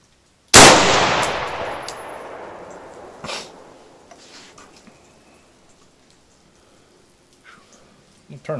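A single loud rifle shot at a 100-yard accuracy target cracks sharply, then a long ringing echo fades out, with faint clicks and handling noises afterward.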